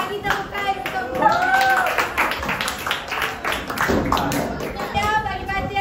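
A classroom of pupils claps together in short rhythmic bursts, close and lively, with children's voices and a teacher talking throughout.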